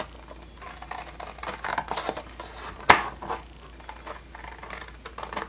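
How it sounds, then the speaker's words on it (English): Scissors or a blade cutting paper along a score mark for a homemade smash book, soft rustling snips with one sharp crisp cut midway, close and alone. "So I'm just going to cut that really quick"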